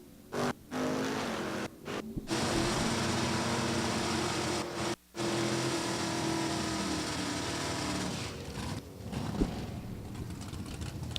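Drag racing cars, including a first-edition Chevrolet Camaro, roaring at National Trail Raceway: loud, sustained engine noise with a few abrupt cutouts and surges.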